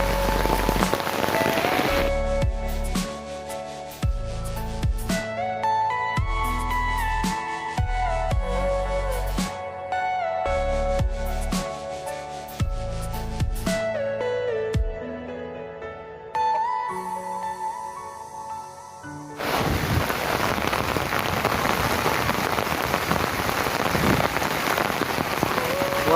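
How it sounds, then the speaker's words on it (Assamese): Heavy rain pours down during monsoon flooding in Assam, a dense hiss of drops hitting surfaces that opens and closes the stretch, while a melodic musical passage with rhythmic low beats plays in between. "বৰষুণটো আৰু বেছি ডাঙৰ হ'ব ধৰিছে"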